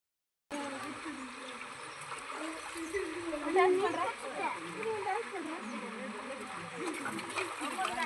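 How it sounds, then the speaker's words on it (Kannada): Water splashes and sloshes nearby in a historic temple tank at Devagange while children's voices chatter and shout over it, the splashing irregular and lively throughout. "ಈ ಕಡೆ ಹಾರಿಸು ನೀರು"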